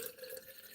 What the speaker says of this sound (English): Filling up my water bottle.